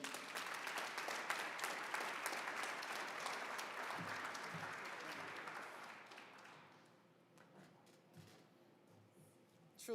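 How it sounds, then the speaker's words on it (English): An audience at a 2021 Georgia PGA awards banquet claps in a dense, sustained round of applause that fades out after about six seconds into a quieter room with scattered sounds. "Please give him another round of applause"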